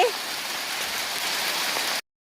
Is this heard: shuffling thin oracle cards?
no